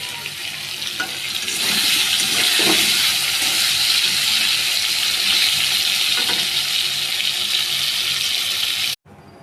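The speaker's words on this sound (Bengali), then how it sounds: "আলুগুলো ভেজে নিচ্ছি" Potato pieces fry in hot oil in a pan, a loud, steady sizzle with a few stirring clunks that lasts about nine seconds and then cuts off abruptly.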